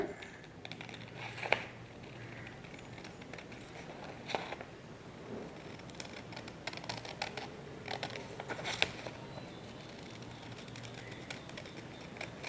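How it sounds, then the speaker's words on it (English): Scissors cut around a paper circle with soft, irregular snips and rustling paper crinkles, fairly quiet and close, spread across the whole stretch without any talking. "with the help of scissors, you all are going to cut this"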